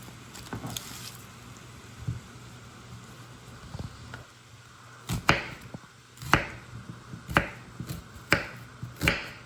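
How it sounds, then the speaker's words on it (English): A knife chopping a large onion on a board, sparse soft cuts at first, then a run of sharper, evenly spaced chops up close with no speech. "Now since these onions are really big, I'm only going to cook and cut up about half of it."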